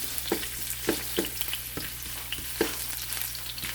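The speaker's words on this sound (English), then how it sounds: "let's begin sauteing our ginger" Ginger sautéing in hot oil in a pan, a continuous crackling sizzle punctuated by repeated utensil scrapes and taps every half second or so, close up with no talking.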